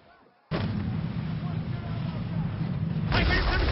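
Ship cannons fire in a naval battle in the video game Assassin's Creed Black Flag. A heavy, booming barrage bursts in suddenly, roars on loudly and swells again near the end.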